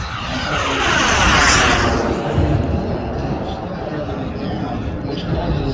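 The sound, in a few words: jet aircraft approaching to land at airshow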